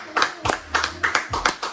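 A church congregation claps in a quick, irregular rhythm of sharp, near handclaps, about eight beats in under two seconds, with a faint low tone underneath.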